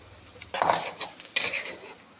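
A utensil scrapes and stirs radish frying in a pan in two short bursts, with faint frying noise between.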